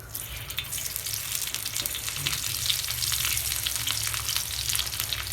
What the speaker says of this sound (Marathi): हे बघा, कांदा टाकून द्यायचा मध्ये.